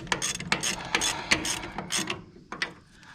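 A seized tractor engine being turned over by hand, giving several rough metallic ratcheting clicks and grinding creaks in uneven bursts, fairly close and moderately loud, with no talking.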